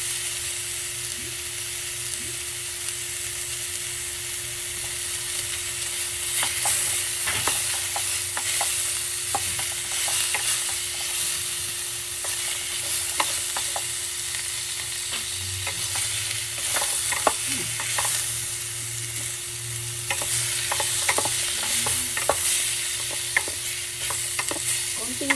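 Tomatoes and butter sizzle steadily in a pan for mussel soup, a close, continuous hiss broken by scattered clicks and scrapes from stirring, with no talking.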